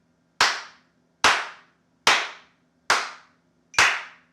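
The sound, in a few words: hands clapping along to a metronome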